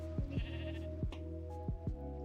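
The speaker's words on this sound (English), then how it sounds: "I hear you, sheep." Sheep in the Minecraft video game bleat several times in close succession, short wavering calls over a steady low background hum.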